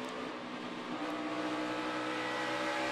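NASCAR Cup Series race cars lap Darlington Raceway, a dense, steady engine roar heard from a distance with no breaks.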